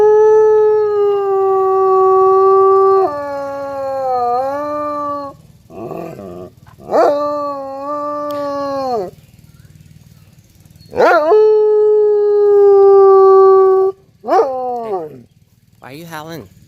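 A dog named Luna howls in a run of long, wavering, rising and falling howls with short breaks between them, loud and close, one howl ending in a sharp yelp-like rise.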